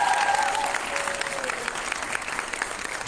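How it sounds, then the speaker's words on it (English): A conference crowd applauds steadily and loudly at an opening ceremony, a dense continuous patter of clapping that carries through to the end. "Give one more round of applause."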